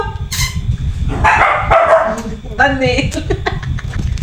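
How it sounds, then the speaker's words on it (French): Several dogs bark and yip close by in short bursts, with whimpers in between, while a person talks over the noise throughout. "Vous avez vu mes chiens?"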